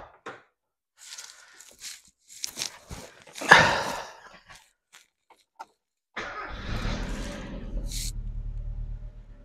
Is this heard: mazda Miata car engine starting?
yes